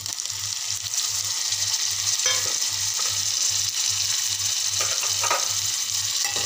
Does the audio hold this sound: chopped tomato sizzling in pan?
yes